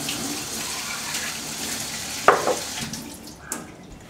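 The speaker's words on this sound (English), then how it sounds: "Just draining the water off of that" Water drains off soaked dates, pouring and splashing into a sink. A continuous trickling flow is broken by a sharp clatter and a few short splashes, close and moderately loud.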